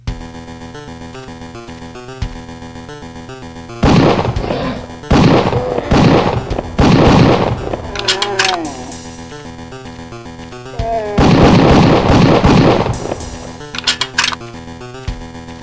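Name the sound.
12 gauge semi-auto shotgun firing in a PS1 hunting game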